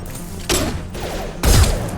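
Two short bursts of gunfire in Mass Effect 2, close and punchy, separated by about a second of quieter combat noise, with no talking.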